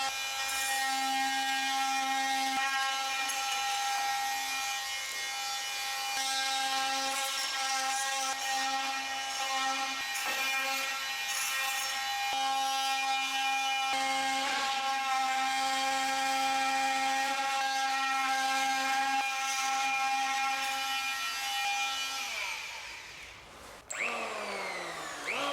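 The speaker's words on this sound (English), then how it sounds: "I started the job with the multi-tool and it worked pretty well in here." Oscillating multi-tool shaping a wooden sailboat frame, a steady high buzzing drone that runs almost continuously at close range before cutting off near the end.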